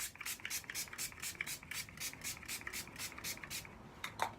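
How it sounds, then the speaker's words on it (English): Too Faced Hangover 3-in-1 setting spray is misted onto a face in a quick series of soft, close hissing pumps, about a dozen evenly paced bursts at low volume. "now I am going to set my face with my favourite setting spray of last year, which is the Too Faced Hangover 3-in-1"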